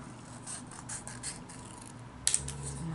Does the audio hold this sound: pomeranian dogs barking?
no